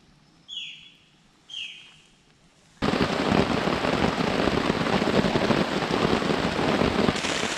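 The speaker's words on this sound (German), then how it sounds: "im Dschungel hört man den Regen langsam kommen, weil das in den Blätterdach so einen Lärm macht" Rain arriving on the leaf canopy of the Amazon jungle in Ecuador: after near silence with two short bird calls, a dense roar of rain on the leaves sets in abruptly and continues loud and steady.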